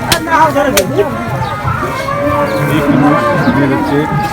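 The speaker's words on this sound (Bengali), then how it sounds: "এই মহিষটি বিক্রয় হয়ে গেছে কিছুক্ষণ আগে এই মহিষটি বিক্রি হয়েছে মহিষটি নিয়ে যাচ্ছে" Domestic water buffalo mooing at Hazratpur cattle market, with a low, drawn-out call standing out against a steady babble of nearby voices and market hubbub.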